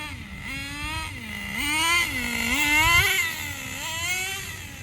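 A Traxxas 4Tec RC car with a Pro .15 nitro engine runs steadily, its high buzzing whine rising and falling as the throttle is blipped, close and loud with no talking.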